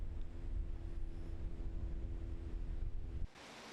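Late-summer ocean waves at Gomseom beach in Taean, South Korea, make a continuous low rushing surf that sounds steady and full, then drops off abruptly near the end, with no one speaking.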